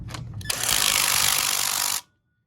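A power tool spins a clutch bolt down on a Mega Moto 80 minibike, a short whirring burst after a couple of brief taps, close and loud, then cutting off abruptly.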